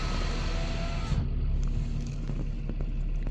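The power window of a Jaguar F-Type closes with a steady electric motor hum that ends abruptly, followed by a few faint clicks inside the car.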